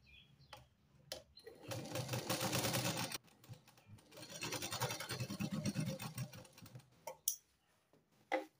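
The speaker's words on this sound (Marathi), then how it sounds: "आता इथे दाब शिलाई देऊन घेऊया." Sewing machine stitching a lined katori blouse in bursts of rapid mechanical whirring, two main runs separated by short pauses, with light clicks and handling noises between them.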